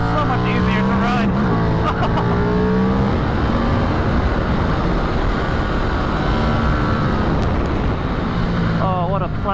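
A 2024 KTM RC8c motorcycle engine drones loudly and continuously while riding, its pitch rising and falling with throttle under heavy wind rush, with a voice talking over it.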